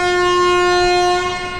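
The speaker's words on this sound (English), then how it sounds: "The doors are actually open while the train is starting to move." Indian passenger train pulling away from the station on the Delhi to Agra route, heard as a steady, sustained tonal drone with strong harmonics, loud and continuous, with a slight fade toward the end and no talking.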